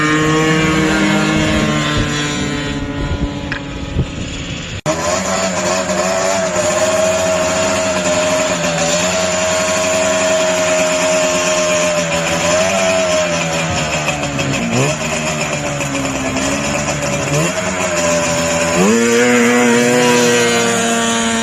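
Vintage snowmobiles grudge racing, two-stroke engines wailing loudly and continuously with rising and falling pitch as the sleds accelerate and shift, one sharp change partway through, with no talk.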